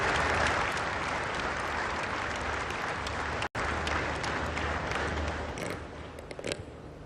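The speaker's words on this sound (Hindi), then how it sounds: "आइए जोरदार तालियों के साथ आमंत्रित करते हैं" An audience applauds Prime Minister Narendra Modi's arrival at the India International Bullion Exchange launch in GIFT City, Gujarat. Dense, loud clapping from a large crowd continues steadily, with a brief cut midway, and thins slightly toward the end.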